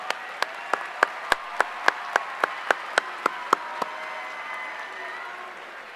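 Audience at a high school graduation applauding educators: distinct sharp claps at a steady rhythm for about four seconds, sounding somewhat distant and sparse, then fading out.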